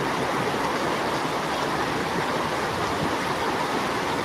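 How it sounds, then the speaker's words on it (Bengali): Dense, steady roar of heavy rain pouring down without pause, loud and close, with no voices. "প্রচণ্ড বৃষ্টি হচ্ছে"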